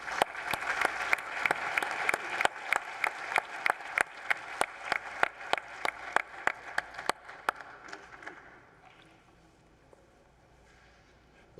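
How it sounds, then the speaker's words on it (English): At the Saudi Green Initiative Forum, a conference audience applauds panel speakers, with sharp, distinct claps over a busy wash of clapping that thins out and fades to near silence after about eight seconds. "A round of applause for all of our speakers"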